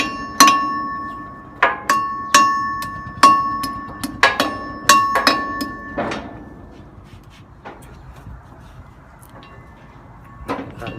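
Steel cable end being hammered back on a truck weighing scale, a series of sharp ringing metallic strikes in an irregular rhythm, loud and close, then quieter scattered knocks and a final hit.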